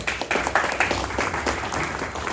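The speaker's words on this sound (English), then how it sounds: "why don't you clap for yourselves that you showed up" A group at a city and government agencies procurement briefing clapping for themselves, brief scattered applause with a few sharper claps, moderately loud and without talk.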